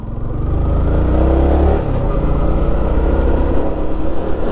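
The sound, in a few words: Yamaha MT15 motorcycle engine while riding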